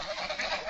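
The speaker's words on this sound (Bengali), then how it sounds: "কত সুন্দর হাঁসের ডাক শব্দগুলো শুনছেন কত সুন্দর হাঁসের ডাকতেছে" Farm ducks on a Bangladeshi village duck farm give a brief, raspy burst of overlapping quacks at moderate distance, with no talking.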